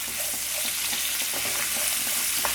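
Garlic and about 25 shallots saute together in a pan, a dense close sizzle with crackling pops and light stirring scrapes throughout, no talking.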